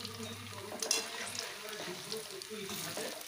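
Puffed urad dal fritters (rosh bora) deep-frying in hot oil, a soft bubbling sizzle with a few brief crackles, close and quiet over the short stretch.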